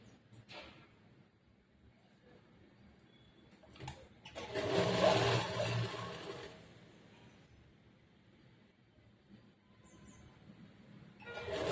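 Sewing machine stitching a straight seam on a semi-Patiala churidar pant, a faint start and stop, then a louder steady run of stitching lasting a couple of seconds before tapering off to quiet.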